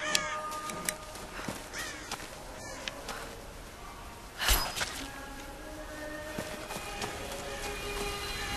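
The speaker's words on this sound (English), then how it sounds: "Let's shoot some birds here." Crow-like caws ring out from birds in the video game Tomb Raider over a busy ambient background with scattered clicks and rustles, the calls moderately close and intermittent.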